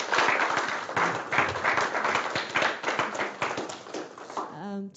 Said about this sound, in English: If everyone could give him a round of applause.